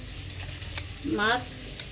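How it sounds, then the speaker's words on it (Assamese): Fish fries in a pan in a home kitchen, giving a steady close sizzle with a brief swell of bubbling and a short vocal sound partway through. "এতিয়া মাছটো বনাই আছোঁ।"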